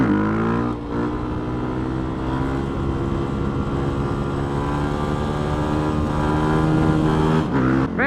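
A cold car engine revs hard and accelerates, running loud and steady close by for the whole stretch, with a brief dip near the start and another rev surge toward the end.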